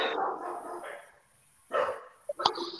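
Dogs in a home barking a few times at close range after a stretch of quiet, the sharp barks bunched toward the end with a faint whimper-like yip among them.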